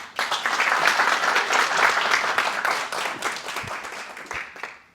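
Applause sound effect played during a stand-up comedy set: dense, steady clapping fills nearly all five seconds at close range, then cuts off abruptly at the end.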